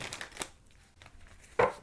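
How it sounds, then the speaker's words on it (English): Tarot cards are shuffled in two quick, quiet riffles close by, the second one sharper and louder. "I'm going to shuffle them one more time."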